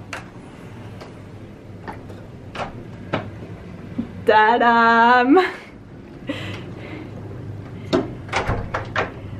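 Hotel suite doors at Disneyland Paris swing open during a room tour, with a few soft clicks and thumps from the latch and door, then a sung exclamation and more talk from a woman.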